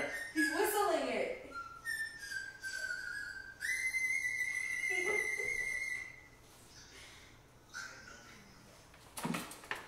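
A man whistles a flowing Mozart melody with sliding and sustained notes, fairly close and clear, with a few soft background knocks.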